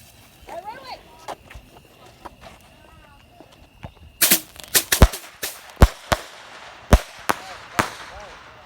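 Fireworks set off outdoors around the Fourth of July: a rapid series of sharp, loud cracks and bangs at irregular intervals, following a quieter stretch with faint sizzling and talk in the background.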